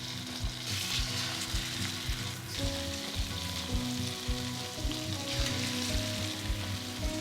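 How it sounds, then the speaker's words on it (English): Pork chops sizzle and crackle steadily in a hot frying pan, with occasional soft clinks and scrapes of a utensil against the pan. "Now I'm gonna put the pork chops in the pan."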